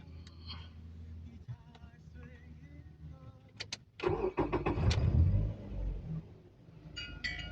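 A car engine cranks and fires up partway through, rising into a loud, rumbling start after a few quiet clicks and knocks beforehand, close to the listener.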